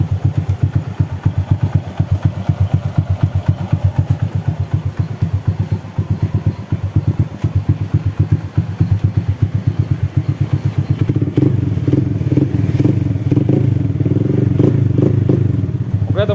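A Honda Astrea motorcycle with a manual hand clutch idles steadily up close, its rapid rhythmic clutch ticking and clattering running throughout, growing a little louder and rougher toward the end.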